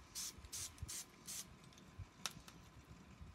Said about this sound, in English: Give it another spray just to keep it going brown.